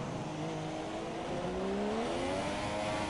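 A race car engine in the F1 2017 video game at the Malaysia circuit drones steadily and loudly, its pitch dipping on a gear change and then climbing as the car accelerates.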